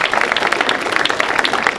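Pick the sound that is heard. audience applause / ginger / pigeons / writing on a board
audience applause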